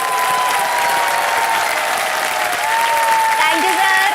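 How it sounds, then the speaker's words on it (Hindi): A studio audience claps loudly and steadily for a contestant on a quiz show, a dense, sustained burst of applause with a tonal music bed running underneath. "तालियां बज जाए जोरदार।"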